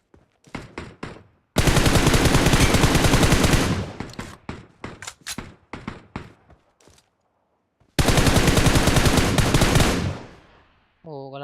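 Gunfire in the water in the PUBG Mobile video game, with a few single shots followed by two long, loud bursts of automatic fire separated by a short pause and scattered shots.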